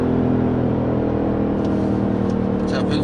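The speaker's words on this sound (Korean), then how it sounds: "고속에서는 엔진 소리와 바람 소리 밖에 다른 잡소리는 일체 들리지가 않습니다" Inside a Mercedes-AMG GLE 63 4Matic at high speed, a loud, constant engine drone blends with a broad rush of wind noise, steady from start to finish.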